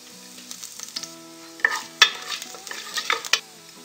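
Whole spices sizzle in hot oil: peppercorns, cumin, ajwain and cinnamon pieces, heard as a close, crackling fry with sharp pops and clicks from stirring scattered over a soft hiss.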